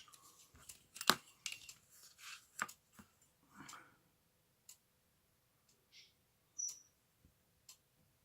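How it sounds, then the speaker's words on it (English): Scissors cut a drawn card shape along its outer lines, producing quiet, close, intermittent snips and crisp clicks separated by pauses. "cut out on the outer lines"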